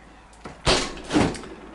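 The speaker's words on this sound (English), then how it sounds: "we'll start by looking into the fridge" A refrigerator door with the freezer on top is pulled open, giving two soft whooshing swings of the door and seal, close and moderately loud.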